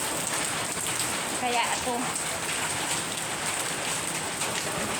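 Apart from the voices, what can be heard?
heavy typhoon rain and wind in Taiwan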